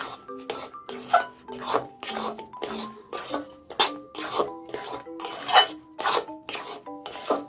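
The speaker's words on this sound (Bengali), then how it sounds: "এবার এর মধ্যে দিয়ে দিচ্ছি গুঁড়ো দুধ। এটিকে ভালো করে সুজির সঙ্গে মিশিয়ে নেব।" Powdered milk is stirred into semolina halwa in a pan, with a spoon scraping across the pan bottom in quick, regular strokes, about two each second, close and clear with no talking.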